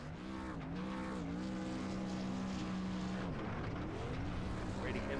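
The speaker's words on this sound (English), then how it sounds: "Kurtman doing those burnouts." A race truck in the iRacing truck series at Las Vegas revs its engine hard during burnouts, a steady droning roar with rising and falling pitch sweeps and tire noise, alongside a faint voice.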